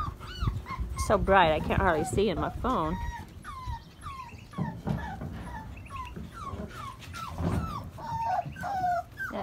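Bernedoodle puppies on a porch whimper and yip in a string of high, wavering cries, close and loud, while someone talks over them.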